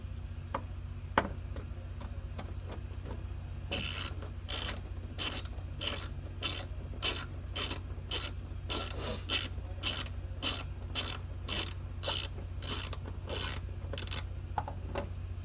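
A hand ratchet spinning radiator bolts down on a car getting a new radiator, a quick regular clicking run that starts a few seconds in over a low steady hum and continues evenly to the end.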